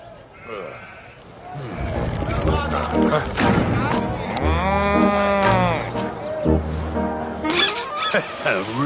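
A cow moos in an animated Andersen fairy tale: a drawn-out low call in the middle of the clip, surrounded by background music and people talking.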